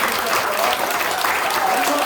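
A church congregation claps warmly at a celebratory afternoon service performance, dense steady applause at close range throughout with faint voices beneath.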